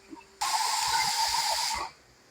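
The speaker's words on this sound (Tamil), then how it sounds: "குக்கரில் விசில் வந்துச்சு" Pressure cooker whistle on the stove while vegetable biryani cooks: one loud, steady hissing whistle with a shrill tone that lasts about a second and a half and then cuts off, with no talking.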